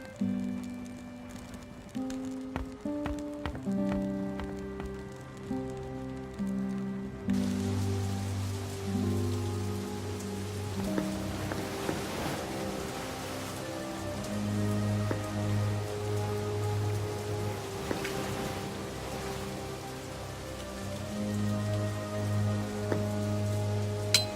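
Steady rain pattering on surfaces in The Dark Eye adventure game, continuous and fairly close, under a sustained musical score that continues throughout.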